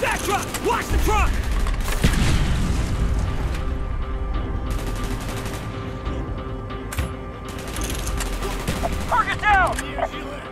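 Video game gunfire in Call of Duty Black Ops: a dense fusillade of shots and booms during a firefight, loud and continuous, with mechanical weapon clatter and scattered in-game voices.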